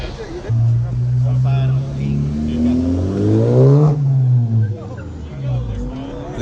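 A turbocharged Kenne Bell 5.0 car engine revs loudly, pitch climbing and falling through several surges, with people chattering in the background.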